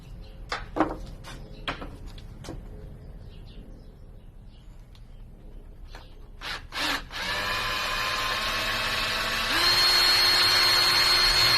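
Light tapping and clatter, then a power drill whirs up loudly and runs continuously, its pitch rising as it bores holes into wood up close.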